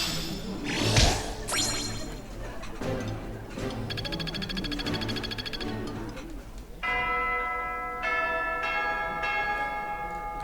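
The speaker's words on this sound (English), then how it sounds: "And that bell concludes our episode." A church bell tolls in the game Fire Emblem Three Houses, its ringing strikes repeating with long shimmering decay over a soft in-game backdrop, plus a brief whoosh near the start.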